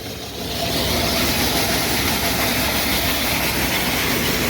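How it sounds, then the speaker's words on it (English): A seed wheat cleaner machine fed from a hopper bin runs steadily with a loud, continuous mechanical rumble and rattle, rising at the start and holding constant with no talking. "We're feeding it into a hopper bin that feeds this cleaner."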